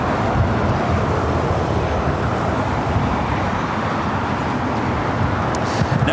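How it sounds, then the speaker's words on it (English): Steady road traffic roar beside LAX airport, a dense, loud wash of passing vehicles with no breaks, heard alone. "I feel like the traffic's a little bit louder here"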